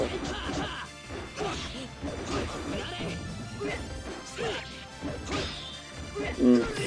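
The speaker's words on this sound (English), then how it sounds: "You bring the thing up and slam it down on their face" Kilik's staff strikes in Soul Calibur, a fighting game, land as repeated heavy smashing thwacks with whooshes, a busy run of close impacts over game music and effects.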